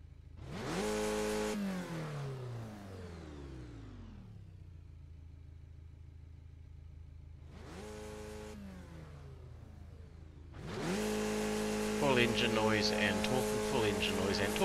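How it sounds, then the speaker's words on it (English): A car engine revs hard in three bursts, each rising quickly in pitch and then sinking back to a low idle rumble, with the last rev held loud to the end. "Full engine noise and talking."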